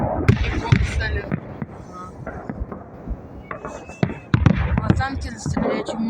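Fireworks for the May 9, 2023 Victory Day salute at Sparrow Hills in Moscow go off in scattered bangs and crackles at a distance, with people chatting nearby.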